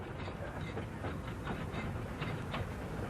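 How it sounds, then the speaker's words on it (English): A Newfoundland Railway train from around 1975 runs along level track, a steady broadband rumble with faint rhythmic clicks of wheels over rail joints, continuous and fairly close. "our train makes good time along this section"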